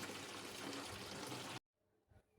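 Water pours into a watering can in a village greenhouse, a steady close splashing stream that stops abruptly partway through, followed by faint rustling and small knocks.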